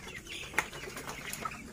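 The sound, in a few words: broiler chickens, 23 days old, in a poultry house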